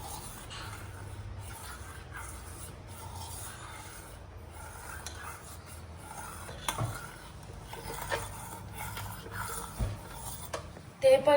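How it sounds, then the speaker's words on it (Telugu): A spoon stirs a colored dessert mixture in a metal pot, making soft continuous scraping and rubbing with occasional clinks that get louder toward the end. "ఇది మా చెల్లె కలుపుతుంది చూడండి."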